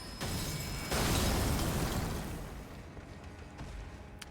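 A Shatter Earth sorcery explosion in a video game bursts with a broad, rumbling blast that swells quickly, then slowly decays into a fading crackle over a few seconds.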